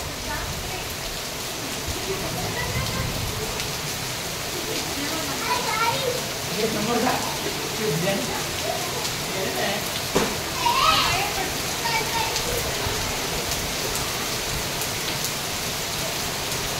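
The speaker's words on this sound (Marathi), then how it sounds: "या खेडमध्ये पहिल्यांदाच पाऊस पडत आहे." First pre-monsoon rain in Khed, Konkan, pouring steadily on surfaces while children play and shout nearby; someone speaks over the continuous downpour.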